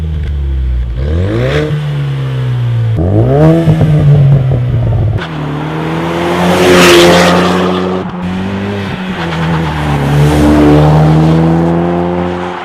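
A 2021 Ford Bronco's 2.3-liter EcoBoost four-cylinder revved repeatedly through its exhaust, several sharp rising blips and sustained high revs that fall back to idle, loud and close with no voices.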